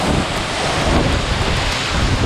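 Dense, steady rush of rain and wind buffeting an outdoor microphone in cold, rainy weather, loud and continuous with no voices.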